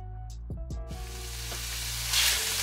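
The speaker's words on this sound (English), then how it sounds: "So I'm just gonna start by browning up 1 pound of ground beef along with 1 chopped onion and some garlic." One pound of ground beef browning with a chopped onion and garlic in a pan, a soft sizzle that builds into a brighter hiss, with a few clicks and knocks near the start.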